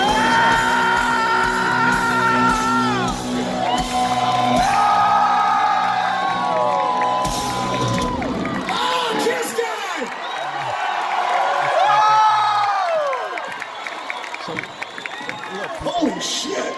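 A large crowd cheers, yells and whoops at a rock concert, a loud dense roar of voices with rising shouts that swells and dips throughout.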